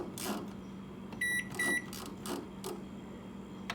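A microwave oven cooking an apple, a low steady hum with a few short beeps from the keypad and clicks as it is set and started.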